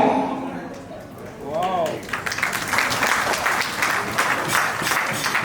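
Audience applause at a Rotary Club meeting, rising after a brief lull into dense, sustained clapping from a room full of people, with a voice heard briefly before it builds.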